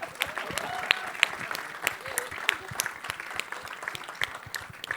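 Applause from a large crowd at a cricket jersey unveiling event, steady clapping with scattered louder claps and a faint voice or two underneath.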